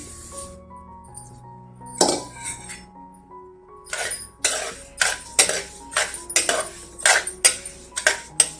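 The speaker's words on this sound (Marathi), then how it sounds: "आता मी हे तीळ भाजून घेते।" Sesame seeds being dry-roasted in a brass wok over a low gas flame for tilgul ladu, heard as a run of sharp metallic clinks and scrapes from a utensil against the pan, irregular at first, then coming every half second, close and alone.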